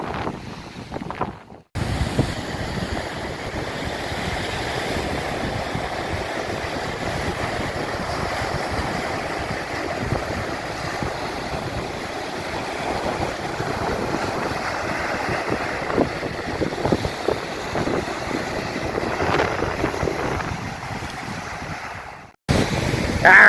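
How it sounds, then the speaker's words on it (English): Ocean surf rolls steadily onto a beach at Lovers Key State Park in Southwest Florida, a continuous close wash of breaking waves with wind rumble on the microphone, no voices. "We're just hanging out here at the beach, Lovers Key State Park, Southwest Florida."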